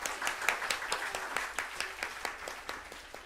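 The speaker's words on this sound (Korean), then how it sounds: "격려 박수 좀 드리십니다." A church congregation at a Sunday worship service claps in encouragement for the praise leaders and team, a sparse, uneven patter of individual claps heard up close.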